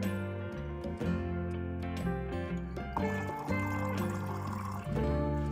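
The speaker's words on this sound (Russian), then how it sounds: "Чай каркаде заливаем кипятком" Boiling water poured from a kettle over dried hibiscus tea in a glass jar, a steady continuous pouring splash and trickle, close and fairly loud, with no talking.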